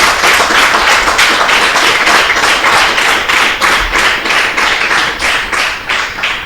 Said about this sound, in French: jeunes joueurs, je vous demande encore de l'applaudir